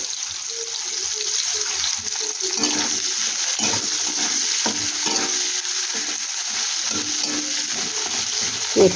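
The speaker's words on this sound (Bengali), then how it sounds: "একটু হালকা ভাজা ভাজা করে নেব।" Onion frying in a pan makes a continuous hiss and sizzle with occasional crackles and stirring scrapes, steady at a moderate level with no talk.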